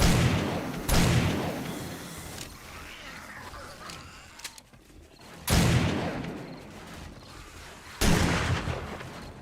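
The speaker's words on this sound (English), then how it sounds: "I think I'm just going to use this shotgun for now." A shotgun fires in a zombie survival game during a horde night, giving three loud booming blasts spaced several seconds apart, with quieter game clatter and rumble in between.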